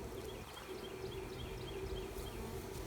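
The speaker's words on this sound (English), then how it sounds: "all the bees flying around will seek out her pheromone and they'll come find her and they'll come into this hive" Bees swarming around a hive entrance, a steady close buzzing drone of many wings with individual insects passing near, continuous and even throughout.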